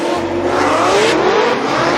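A drift car at a Formula Drift event screams through a sustained, loud engine rev whose pitch climbs steadily, heard close and continuous with no talking.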